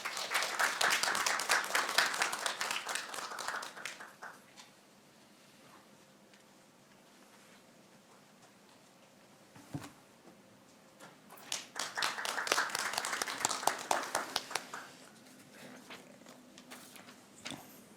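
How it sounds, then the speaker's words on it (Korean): An audience at a public-sector policy forum claps in two bursts: lively applause at the start that fades after about four seconds, a quiet pause with a single thump, then a second round of clapping that dies away again. "박수 부탁드립니다."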